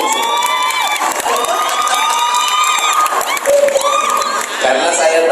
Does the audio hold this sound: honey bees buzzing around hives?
no